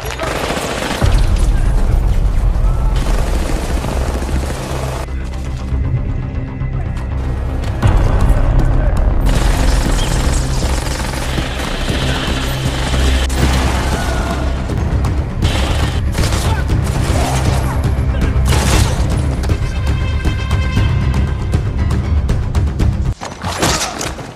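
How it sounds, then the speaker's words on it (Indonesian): Loud grenade blast and bursts of automatic gunfire in an action film scene about terrorists attacking the American president, with booming explosions and rapid fusillades running nearly continuously throughout. "Mac pun mengecoh mereka dengan melemparkan granat lalu menembak mereka dari sisi yang tak diketahui oleh"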